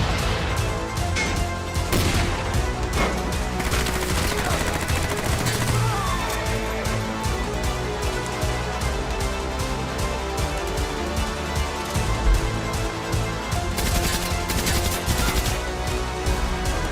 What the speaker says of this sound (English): A whole ass grenade launcher?